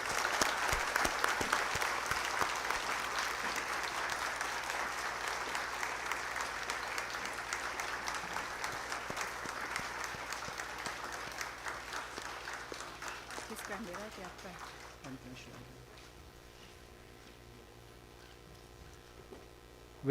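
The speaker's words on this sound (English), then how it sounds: "we welcome Sri Ramnath Kovindji, the former President of India, with a round of applause." A conference audience applauds to welcome a former President of India, with dense, sustained clapping that slowly fades out over about fifteen seconds, leaving a quiet hall.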